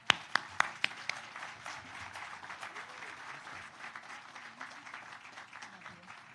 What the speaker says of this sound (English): Let's give a warm hand to Richard Saldivar.